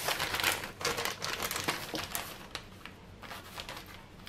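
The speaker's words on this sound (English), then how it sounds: "I'm just about to put these dried chilies in the bag now" A plastic bag crinkles and rustles up close as dried chilies are dropped in, loud irregular crackles at first that thin out and soften toward the end.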